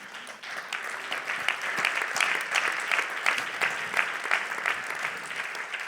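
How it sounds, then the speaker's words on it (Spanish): A church congregation claps together during a sermon, a dense and even burst of applause that holds steady for several seconds with no talking over it. "Normalmente en mi iglesia cuando aplauden significa terminamos, pero aquí todavía no."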